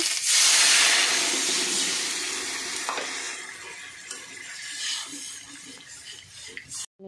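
Water hits frying spices for a soybean and potato curry, a loud rushing sizzle that swells at first and gradually settles, with scattered stirring clinks near the end.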